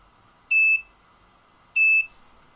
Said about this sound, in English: Waiting for the beeper, for the buzzer.